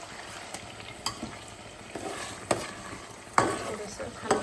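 Fish curry stirred in a pan on the stove, a soft simmering sizzle broken by several sharp scraping knocks of the spoon against the pan at irregular intervals.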